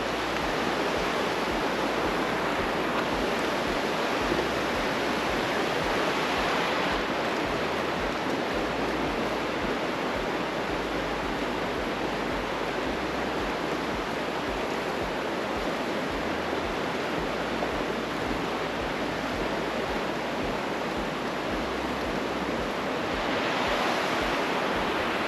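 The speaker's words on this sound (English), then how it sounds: "Got some rapids right here." River rapids in The Narrows at Zion, a loud, continuous rush of churning water that fills the scene without pause.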